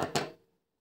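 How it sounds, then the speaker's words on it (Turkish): Beading line for a bead bracelet is snipped off with two quick, crisp clicks close by, the second slightly louder, then quiet. "Buradaki fazlalık misinamı hemen kesiyorum."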